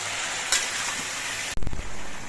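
Ridge gourd sautéing in a pan, salt not yet added and water seeping out, gives a steady close sizzle, broken by one sharp stirring scrape and clatter about two-thirds through, then the sizzle resumes.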